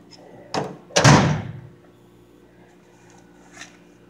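A Husky limited edition tool chest drawer on a single rail slides shut with a short, loud thunk, preceded by a lighter knock and followed by a faint clink near the end, all close to the microphone with no talk.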